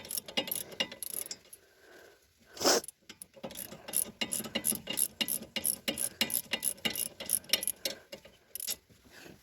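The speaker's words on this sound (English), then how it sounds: "I got the last few bolts coming out right now" Bolts being wrenched out of the brake caliper bracket on a 2011 Chevrolet HHR during a rotor change, a quick run of close metallic ratcheting clicks in short bursts with brief pauses and one louder clunk.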